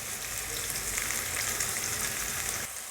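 Kebabs frying in oil in a pan, a loud, close, continuous hiss and crackle of sizzling oil that drops slightly toward the end.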